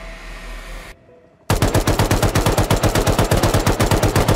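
Rapid automatic gunfire in the video game Rust cuts in abruptly after a brief silence, a loud, close, evenly spaced burst of shots that continues to the end.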